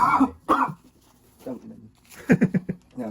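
A few sharp coughs come in quick succession, close by, with brief talk before them.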